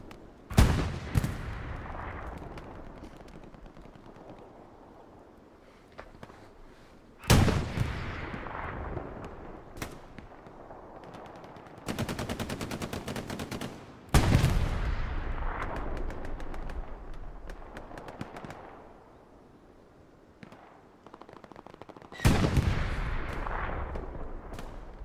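Artillery shells and gunfire from the World War II shooter Hell Let Loose, several heavy booming impacts spaced out with crackling rifle and machine-gun bursts between them, loud and close, no voices.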